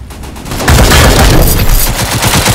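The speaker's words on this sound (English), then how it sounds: "Suppressive fire!" Heavy sustained gunfire in the WWH death match game, a loud rapid volley of shots and booms that swells after a brief lead-in and keeps hammering throughout.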